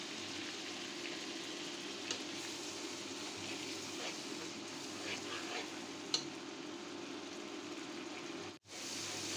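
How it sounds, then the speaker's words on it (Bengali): Ginger-garlic paste, turmeric, chili, coriander, salt and garam masala sautéing in a pan for shahi roast, a faint, steady low sizzle with occasional light scrapes of stirring. "মশলা কষিয়ে নিচ্ছি।"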